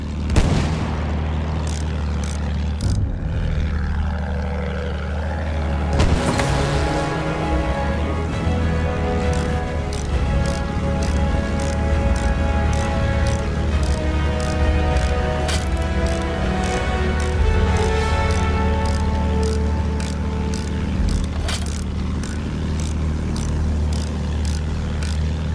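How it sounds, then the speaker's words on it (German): Enemy propeller airplane droning in a Battlefield 1 multiplayer battle, a steady engine hum running throughout beneath scattered sharp blasts and gunfire, with a heavy explosion early on. "feindliches Flugzeug!"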